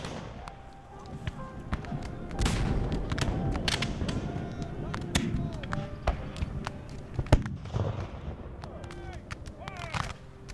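Cannon fire from an artillery battery shooting solid shot at a Revolutionary War re-enactment of the Battle of Monmouth, 1778, with sharp distant reports and scattered musket cracks over a steady outdoor rumble, partly under narration.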